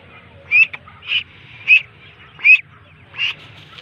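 Domestic ducks quacking in several short, nasal calls spaced about every second, moderately close over a quiet background.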